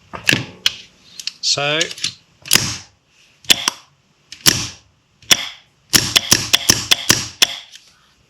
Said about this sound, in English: we'll see the solenoid swap position and supercore fire, and when I release the trigger, it will fill again